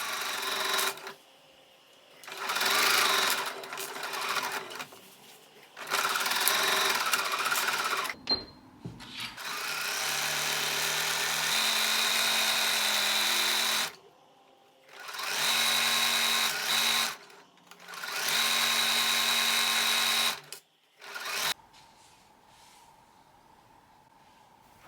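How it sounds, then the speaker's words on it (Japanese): A domestic sewing machine runs in several bursts of steady stitching along the back centre seam of a formal dress, long basting stitches first then normal stitches, each run separated by short pauses and quiet handling. "背中心を空き止まりまで粗めミシンで、そこから下は普通の目で縫おう。"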